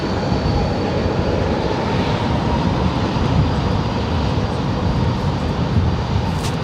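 A UPS heavy jet airliner takes off from runway 18 left at Dallas DFW airport, its engines producing a constant loud broadband roar that holds steady throughout, heard from nearby with no voices.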